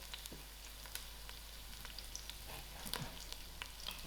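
Cinnamon stick, bay leaf, curry leaf and thyme fry in a pot for lamb and okra curry, giving a soft, steady crackle and sizzle with scattered small pops throughout.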